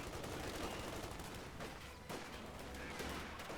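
Gunfire crackles in the Company of Heroes 2 strategy game: faint, repeated sharp rifle shots and bursts over a constant low battlefield rumble, with a few distinct cracks standing out.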